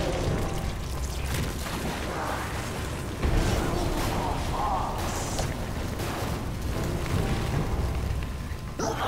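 Fire bombs going off in the Resident Evil Revelations 2 survival horror game, a sustained stretch of heavy booming bursts and crackling blasts, loud and dense, with a voice talking intermittently over the noise.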